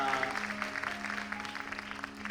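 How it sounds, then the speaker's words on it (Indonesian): Church congregation applauding in a worship service, a dense steady wash of many hands clapping, with a low sustained organ or keyboard tone underneath. "Boleh beri tepuk tangan satu kali lagi buat Tuhan Yesus yang luar biasa"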